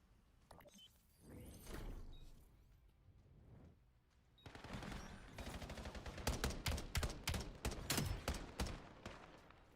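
Gunfire from a Call of Duty tournament match, a few quiet early shots then rapid loud bursts of automatic fire in the second half, with no talking.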